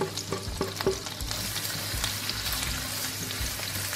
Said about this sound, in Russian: И сразу же отправляю обжариваться чеснок и перец чили.